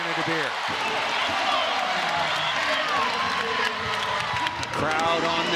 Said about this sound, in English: Crowd on their feet for the first of 4 match points.